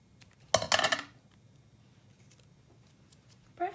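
Paper for a handmade card is cut with scissors, one close, crisp burst of snipping and rustling near the start, followed by quiet and a brief faint rustle at the end.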